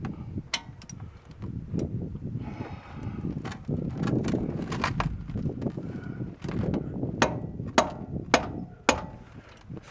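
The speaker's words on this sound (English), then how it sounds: "I like using my my rubber mallet for some tightening up" Rubber mallet blows on the front wheel hub of a 2008 two-wheel-drive Chevrolet Silverado during a bearing replacement: a series of sharp, close knocks, clustered toward the end, over clattering, rustling workshop noise.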